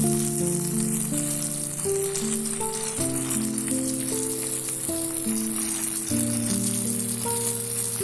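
Tomatoes fry in a pan for an Andhra-style gongura curry, giving a steady, soft sizzling hiss that runs the whole time beneath louder melodic background music.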